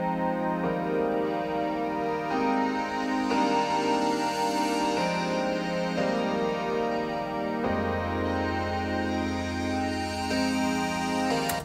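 Dark synth bell tones from a DX7-style FM plugin ring out as layered, sustained chimes over a full electronic track with a steady low bass line, continuous and loud with no talking.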